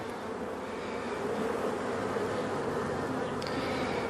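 Honey bees buzz steadily at an open hive during a beekeeping inspection, a dense, continuous drone close by with no voices over it.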